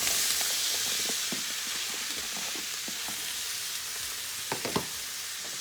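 Onions and potatoes fry in melted butter with a dense, continuous sizzle and popping crackle, close and fairly loud, with a few stirring scrapes toward the end.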